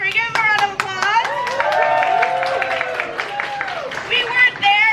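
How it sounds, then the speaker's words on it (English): Restaurant diners at Bubba Gump's applauding a couple celebrating their first anniversary; scattered nearby hand claps ring out under lively chatter and voices. "Give them a round of applause."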